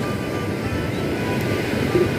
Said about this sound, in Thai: ก็คลื่นลมก็ค่อนข้างแรงนะครับ